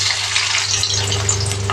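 Chopped onions sizzle in hot mustard oil in a pan, a loud, steady, close frying hiss that continues without pause and has no talk over it.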